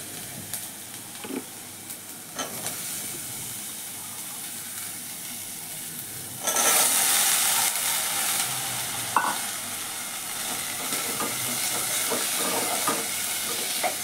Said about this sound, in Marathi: 2 मिनिटं परतूया आणि त्याच्यामध्ये आपण आता हे धुवून घेतलेलं बटाटा टाकून घेऊया